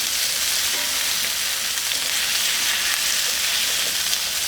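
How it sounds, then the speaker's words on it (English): Three steaks searing in a hot pan, a dense continuous sizzle and crackle, loud and close throughout, with no talking. "We'll let them sit there and cook. And get that sear on."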